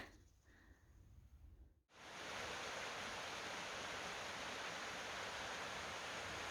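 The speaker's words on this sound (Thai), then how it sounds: "เป็นน้ำตกน้อยๆมินิน้ำตก" A small mini waterfall pours steadily, a broad even rushing wash that swells in after a short quieter stretch and then holds constant and close.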